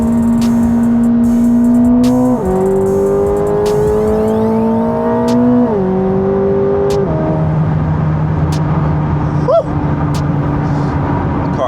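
A 1064 hp Corvette C8 ZR1 pulls hard through downtown Chicago, its exhaust roaring loud and close as the engine revs climb through several upshifts, then settles to a lower drone.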